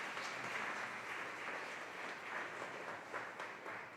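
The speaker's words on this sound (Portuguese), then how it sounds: "Você que crê, aplauda o Senhor em nome dele mesmo." A church congregation applauds, a faint, steady wash of many hands clapping heard from a distance with no voices over it.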